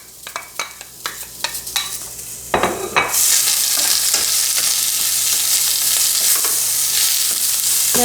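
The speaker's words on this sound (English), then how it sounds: "This is a hot pan. We're gonna do this really quickly, okay? Onions and celery are gonna go in." Onions and celery hit a hot oiled pan with a loud, steady sizzle, preceded by a few utensil clinks and stirring taps, then a dense hiss that holds evenly to the end.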